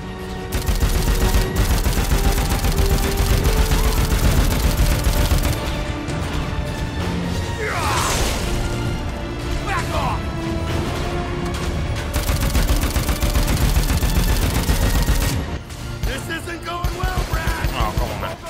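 Sustained automatic gunfire in the video game Dead Rising 4, dense and loud for most of the stretch, with brief pauses, crashing impacts and game sound effects layered over the shooting.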